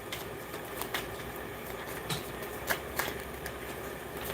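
Tarot cards are shuffled close by, with soft, irregular riffling clicks and flicks scattered over a steady background hiss, and no voices.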